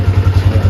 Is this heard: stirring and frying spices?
no